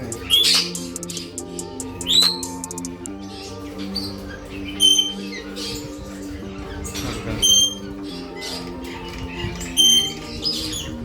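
Many small birds chirp and tweet together inside a bird shop in Kuwait, with sharp squeaky calls popping out over a steady, busy chatter that fills the room at close range.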